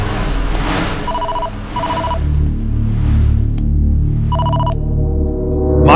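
A telephone rings in short repeated double-tone bursts over a background music score, a sharp hit cutting in between rings.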